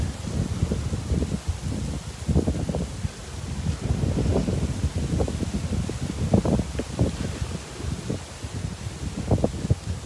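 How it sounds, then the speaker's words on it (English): Gusty wind buffeting a microphone outdoors near waves, producing rumbling low bursts that rise and fall continuously and fairly loud, with no talking. "Is the wind disturbing the sound quality?"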